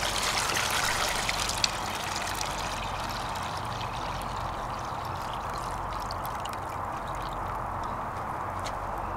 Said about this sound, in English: So now we'll go ahead and pour the water back into this pan here.